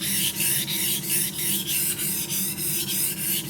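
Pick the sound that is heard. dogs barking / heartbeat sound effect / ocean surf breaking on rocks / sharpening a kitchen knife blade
sharpening a kitchen knife blade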